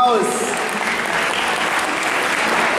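Steady applause from the audience at a cosplay contest during the FrankenMEXX 2018 convention, dense continuous clapping from a crowd, fairly loud, with a brief voice at the start.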